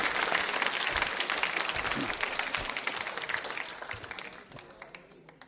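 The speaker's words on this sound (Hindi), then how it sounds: "तालियां जोरों से बजाइए सीताराम जी के लिए" A school quiz show audience applauds a contestant for a correct answer, dense clapping that starts strong and gradually tapers off toward the end.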